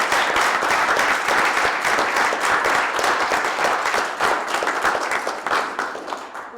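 An audience at a public meeting about wages and ending poverty applauds with loud, sustained, dense clapping that holds steady before easing slightly toward the end.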